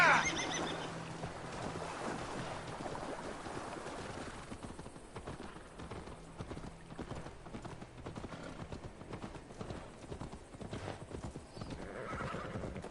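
Clip-clopping hooves keep a steady rhythm while a horse whinnies near the start in Assassin's Creed Valhalla, with game ambience underneath and no clear talking.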